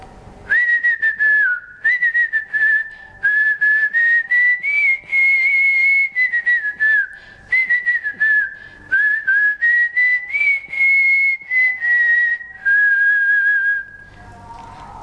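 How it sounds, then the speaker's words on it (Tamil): A person whistles a song, a clear and loud melody in phrases with short breaths between them, carrying alone throughout with no talk. "நான் உங்களோட விசில் சத்தத்திலேயே வந்து மெய் மறந்து போயிட்டேன்"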